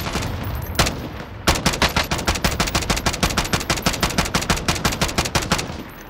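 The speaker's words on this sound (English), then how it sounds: "They're using the Sawcross pistols, bro." Sawcross pistol gunfire in Call of Duty: Warzone, a single shot followed by a long rapid rhythmic burst of loud, evenly spaced rounds lasting several seconds.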